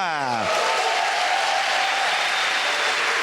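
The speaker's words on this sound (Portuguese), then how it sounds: "Então recebam com muitas palmas o primeiro palestrante dessa manhã" An audience bursts into loud, dense applause welcoming the first speaker of a morning church event in London, the clapping steady and sustained after a brief spoken introduction at the start.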